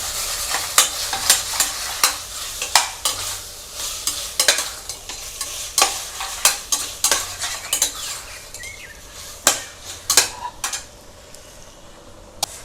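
A spoon stirs tomato in a pan of Kerala-style chicken curry, with repeated metallic scrapes and knocks against the pan over a constant sizzle. The strokes come in an uneven rhythm, close and fairly loud.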